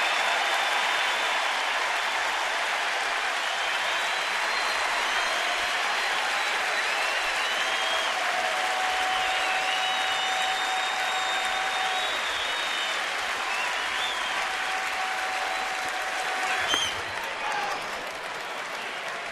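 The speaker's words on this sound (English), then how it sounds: "and the crowd is into it." Baseball crowd at a Yankees at Nationals game in Washington cheering and applauding steadily after a big pitch, a dense, loud roar of clapping and voices that holds throughout with a brief swell near the end.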